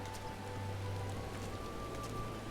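Steady rain falling in the video game Final Fantasy XIV, an even, continuous patter with a low hum underneath and no voices.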